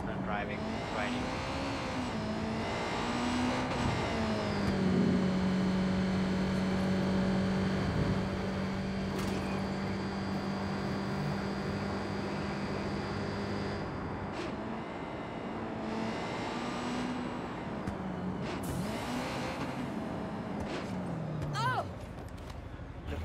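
A vehicle engine drones continuously while being ridden through the city in Watch Dogs 2, its pitch rising and falling as it speeds up and slows, with a voice talking over it.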